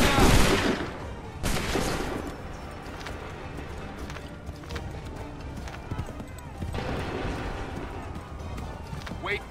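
Musket volley fire in the video game Assassin's Creed III, a loud crackling burst at the start and a second one just after, then a rumbling battlefield din with scattered shots and hooves.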